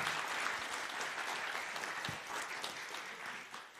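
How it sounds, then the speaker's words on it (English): A conference audience at an India–Sweden innovation event applauds panelists leaving the stage, a steady wash of many hands clapping that is fairly soft and distant and tapers slightly toward the end. "if we could give them a hand of applause for joining us on stage"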